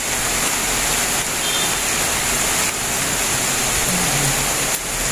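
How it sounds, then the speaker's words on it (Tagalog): Steady, even rain hisses without a break, a broad wash of falling water with no voices. "Ayun, oh, umuulan-ulan."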